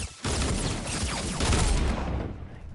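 Desert Eagle pistols fire in a video game, a dense, loud stretch of rapid overlapping shots and booms running almost continuously, swelling in the middle and tapering slightly at the end, with no talking.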